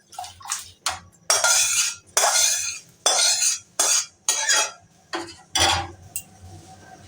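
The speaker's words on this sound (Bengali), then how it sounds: "এবার আমি ডালটাকে কড়াইয়ের মধ্যে ঢেলে" Washed mung dal is poured into hot water in a wok, giving a run of splashy, clattering bursts with brief pauses between them, close and fairly loud, with no voices.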